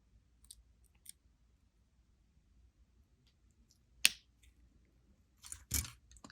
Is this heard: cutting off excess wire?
yes